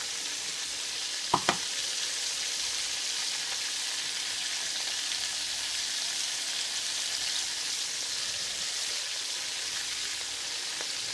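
Chicken breasts or cabbage sizzle steadily in a frying pan, a constant close crackling hiss with a couple of brief clinks of a utensil near the start.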